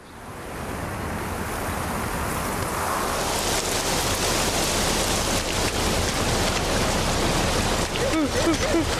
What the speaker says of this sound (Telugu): వర్షం ఎక్కువగా కురుస్తుంది.